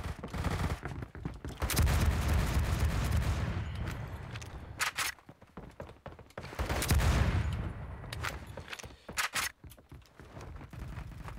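Heavy gunfire from a BFG-50 rifle in Phantom Forces, loud booming shots in two main clusters with echoing tails and scattered sharp cracks and scuffs between them.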